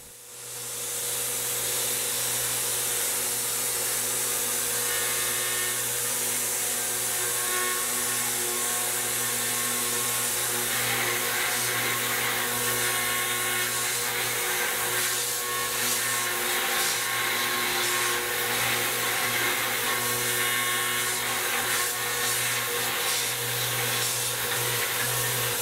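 Small DIY CNC turret lathe machine milling with a quarter-inch carbide end mill at max RPM, with a loud steady high-pitched whine and hiss of spindle and cutting running continuously up close for the whole stretch.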